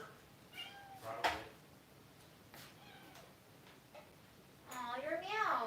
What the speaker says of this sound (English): Aw, your meows. They're so cute.